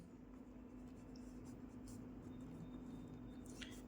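Pen or marker writing numbers during a maths lesson, faint continuous scratchy strokes against a low steady hum, quiet and close with no talk over it.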